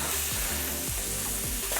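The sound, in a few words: skewered meat sizzling on barbecue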